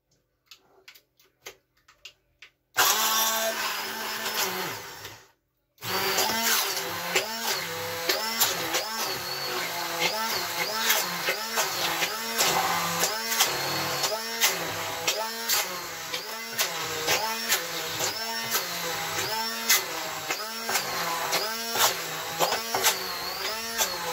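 An electric hand mixer whips eggs and sugar for a lemon and coconut sponge cake, starting after a quiet moment with a loud, steady motor whir that pulses rhythmically as the beaters churn, with a brief cutout partway through.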